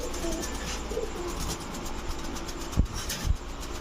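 Racing high-flyer pigeons, including a Khulna naktana hen, give soft, low cooing close by over a steady background rumble, broken by two short knocks near the end.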